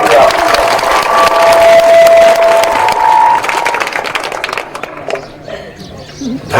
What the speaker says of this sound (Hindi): जोर से ताली बजा के स्वागत कीजिए आप।